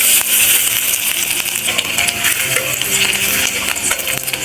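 Chopped garlic hits hot oil in a wok, a loud steady sizzle and crackle filling the whole stretch without pause, with light metallic scraping over it.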